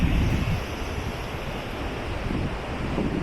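Sea surf washing onto a beach near Kota Kinabalu in Borneo, a steady broadband roar of breaking waves mixed with wind buffeting the microphone, continuous and fairly loud throughout.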